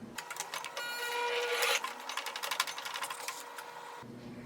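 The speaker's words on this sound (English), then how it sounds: "When you are close to the end, slow down your sewing." A sewing machine stitches fabric up close, its rapid mechanical clatter running in bursts and easing off as the stitching slows near the end, then stopping abruptly.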